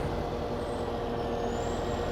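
Farming Simulator 17 dump truck out snow plowing: a continuous heavy engine rumble with a hissing air-brake tone riding on top, steady and close, with no voices.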